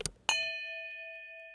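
A notification bell sound effect: a short tap, then a bright metallic ding that rings on with a sustained, slowly fading tone.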